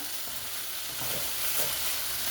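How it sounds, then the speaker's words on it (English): Beef and broccoli sizzle loudly in a frying pan while a utensil scrapes across the bottom, a continuous close hiss with scraping strokes that swell toward the end. "Okay, y'all, I'm scraping it up. See all that good stuff on the bottom?"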